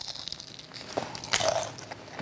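A bite into fried Filipino turon gives a sharp crunch and brittle crackle, followed by close, quiet chewing with no talk.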